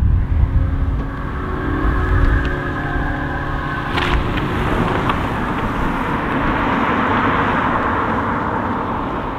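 A Vauxhall Corsa Electric drives along a Cotswold village road, with steady tyre and road roar and wind rushing past throughout, close and continuous with a brief clunk partway through.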